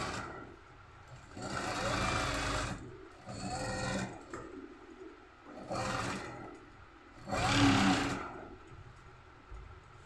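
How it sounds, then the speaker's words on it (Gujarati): A sewing machine stitches the edge of Chanderi cloth for a kurti, running in four separate bursts with short pauses between them, loud and close. "આમાં કિનારી સિલાઈ મારવાની આપણે, દાબની કેમ નહીં મારવાની"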